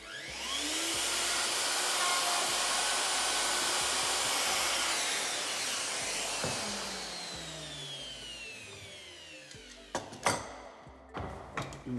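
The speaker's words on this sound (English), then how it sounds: "with your router, it's a simple down, across, back and out motion" A wood router spins up and cuts with a PEANUT mini jig, giving a loud, steady high-pitched whine that slowly winds down, then a few sharp knocks and clatters near the end.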